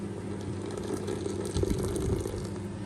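Boiling water from a kettle pours steadily onto tablets in a koi pond setting, a continuous near gushing and splashing wash with a slight surge midway, with no talk.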